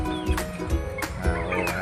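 A Rhode Island chicken clucking nearby in short, repeated calls spaced roughly half a second apart, over a busy background of other birds.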